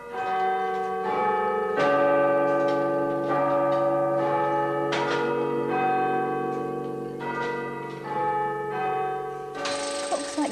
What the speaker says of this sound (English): the far section is the chimes that does the Westminster chime